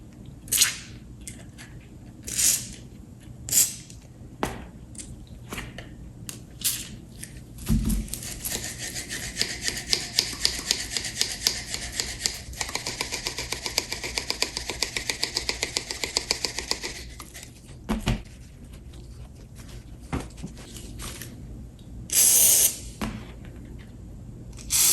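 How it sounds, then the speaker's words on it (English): A can of WD-40 is sprayed through its red nozzle into the pivot points of new pliers: a steady, close aerosol hiss lasting several seconds, bracketed by scattered handling clicks and taps. "And we'll spray it out with the WD-40. Use the red nozzle to direct it"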